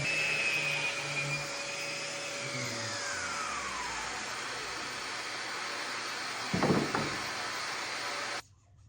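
An electric sander hums with a steady, rough whir on a wooden live edge dining table for several seconds, with a brief clunk near the end before it shuts off.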